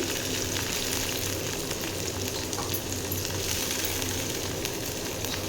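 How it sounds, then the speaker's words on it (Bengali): Chopped onion going into hot oil with fried garlic in a pan, giving a steady, close, dense sizzle that runs unbroken throughout with no talking. "রসুনটা যখন সুন্দর একটা গন্ধ বের হবে, এর মধ্যে দিয়ে দেবো পেঁয়াজ কুচি।"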